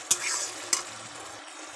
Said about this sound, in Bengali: এখন একটু ধনেপাতা দিয়ে একটু নাড়াচাড়া করে নিলাম।